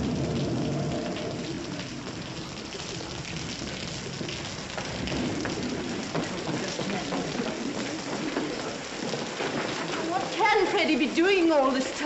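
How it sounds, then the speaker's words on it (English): Steady rain pours down in stormy weather, a dense hiss running throughout with people talking under it and a sharper burst of noise near the end. "Looks like rain."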